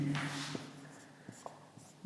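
Pen scratching on paper while a Class 10 trigonometry problem is written out by hand, a soft, quiet scrawl with a few light taps of the pen and no voice.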